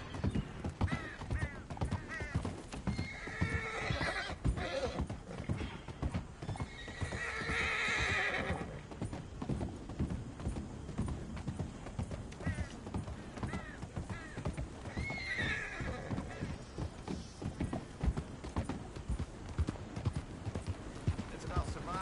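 Horse hooves clip-clop in a steady rhythm in the Red Dead Redemption 2 game, with a loud whinny or two breaking through, close by and mixed with spoken voices.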